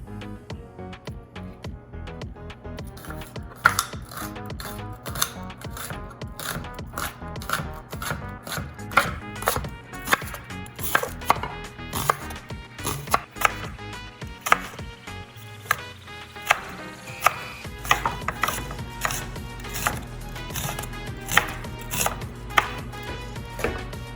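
A knife chops a purple onion steadily on a cutting board, a long run of sharp, fairly regular taps with brief pauses, close by and clear.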